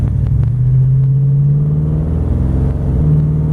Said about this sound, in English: now I'm gonna take off a little bit more gas, and I'm gonna, like I'm trying to get ahead of traffic at a stoplight